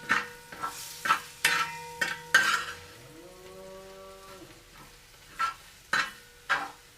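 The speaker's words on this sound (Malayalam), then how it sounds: "ഇനി നമുക്ക് ഈ പൊടി ഇതിലേക്ക് ഇട്ട് കൊടുക്കാം. എന്നിട്ട് നമുക്കൊന്ന് വഴറ്റിയെടുക്കണം." Chilli powder, chicken masala and turmeric are sautéed in a pan for a chicken curry, heard as bursts of spoon scraping against the pan with a faint sizzle, and a sustained tonal hum in the middle.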